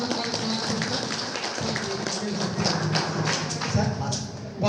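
A crowd at a disability day event claps for guests, a dense spread of hand claps that runs under a voice on a loudspeaker.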